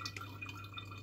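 Mulberry, strawberry and lemon juice dripping into a jug, a few small, close, intermittent liquid drips and splashes over a steady low background hum.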